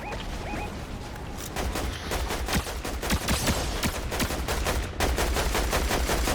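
Rapid bursts of gunfire from the Fortnite video game crackle in dense volleys, with sharp repeated shots across the whole stretch and a few brief electronic tones early on.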